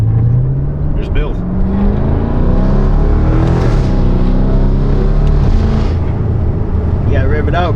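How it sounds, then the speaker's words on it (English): An Audi RS3 accelerating hard, its engine droning and climbing in pitch through a loud, steady run with rising and falling tones, heard from inside the car, with wind and road noise beneath. "You gotta rev it out, bro. Don't be scared."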